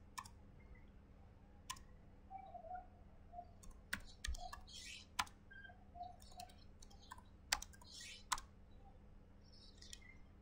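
Computer keyboard typing while entering commands in Cisco router configuration: scattered sharp key clicks and taps, close and fairly quiet, with faint birdsong chirps in the background.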